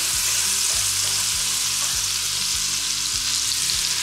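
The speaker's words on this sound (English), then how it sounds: "Next, we're gonna add in our minced garlic." Minced garlic sizzles with onions in a hot pan, a loud, dense frying crackle that stays steady and close throughout, with no voices.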